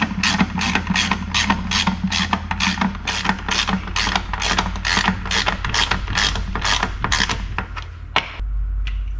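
A hand ratchet snugs the bolts on a 241 DLD transfer case during a rebuild, giving a steady, rapid, loud run of close clicking strokes for most of the clip before stopping near the end.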